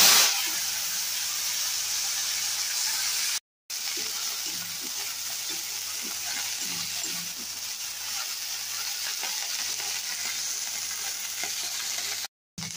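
Steady loud sizzling of sunn hemp flowers frying in hot oil, with occasional stirring clatter, continuing with two brief silent gaps.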